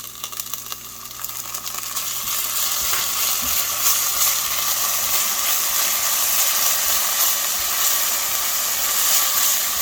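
Onions, shallots and minced garlic frying in a pan for turkey chili, an even, fairly loud sizzle that builds after the first couple of seconds, with a low hum and faint stirring taps early on.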